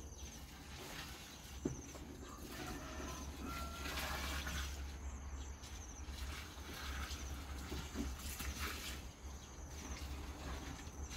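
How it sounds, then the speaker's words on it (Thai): Water pours in a steady, continuous rush, fairly quiet and unbroken, with a faint low hum underneath, during charcoal briquette production. "นี่ก็จะเทน้ำไปเลย"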